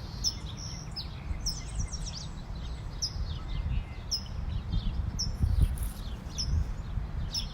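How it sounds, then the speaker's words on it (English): House sparrows and house finches chirp up in trees, giving repeated short high chirps and tweets over a steady outdoor rumble, moderately distant and fairly faint. "like house sparrows and house finches up in these trees."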